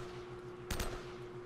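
A quick burst of automatic gunfire in the Uncharted video game, one short cluster of shots over a low steady hum.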